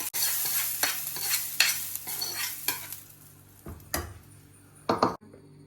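Hot curry-leaf tempering poured into a dried prawn and ridge gourd curry gives short bursts of sizzling and splattering with a few utensil clinks against the pot, loud at first and then quickly fading.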